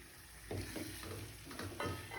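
Eggs frying with masala in a pan for kothu parotta, a soft steady sizzle with occasional stirring scrapes, close and fairly quiet, no voices.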